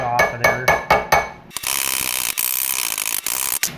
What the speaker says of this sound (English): I'm just gonna get a chipping hammer after it.